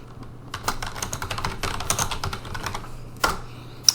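Fingers tapping out text on a computer keyboard, a quick irregular run of light clicks close by, with a few sharper keystrokes toward the end and no voices.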